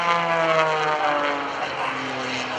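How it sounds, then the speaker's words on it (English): A propeller airplane engine drones loudly with a strong harmonic whine during an aerobatic torque maneuver at the 2012 NAS Oceana Airshow, its pitch sliding slowly downward as the aircraft hangs and rotates. "The airplane's going to rotate counterclockwise using the torque of that motor as it flies backwards."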